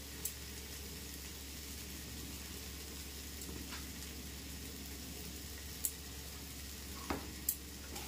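A spiced masala with tomato and salt fries in a pan, a steady soft sizzle with faint scraping stirs and a few small pops and clicks, close but quiet.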